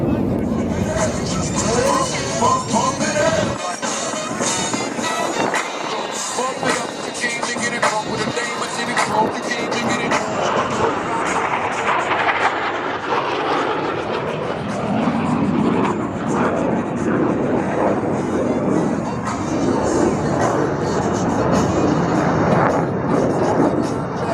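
Aerobatic aircraft engines roar and swell at an airshow as four planes perform a simultaneous inverted roll, a broad rushing drone rising and fading beneath an announcer's voice.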